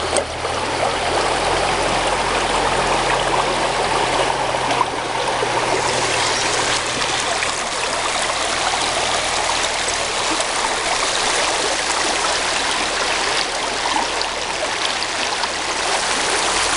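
A river rushes and burbles steadily at a gold-prospecting site on a sunny day, a loud, close, continuous wash of flowing water with no talking.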